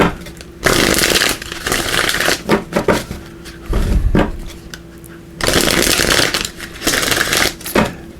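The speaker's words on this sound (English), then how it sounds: "We'll give these a quick shuffle" Oracle cards are shuffled in two long riffling bursts with shorter rustles and taps between, close and loud, no speech.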